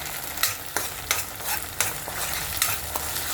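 Whole spices fry and sizzle in hot oil for a mutton fry while a spoon scrapes and stirs the pan in quick, repeated strokes, close, steady and with no one talking.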